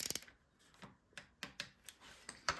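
A torque wrench ratchets while a bolt is tightened on a bicycle quill stem, giving a quick run of sharp, close clicks and ticks that come unevenly with small pauses.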